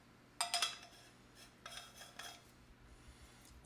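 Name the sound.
dosing funnel screwed onto manual coffee grinder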